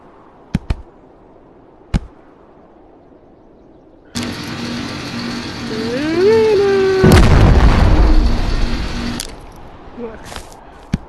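RPG launcher in the VR game Animal Company fires with a loud whooshing launch and a rising whine, then a heavy boom, preceded by a few sharp clicks and followed by a fading rumble.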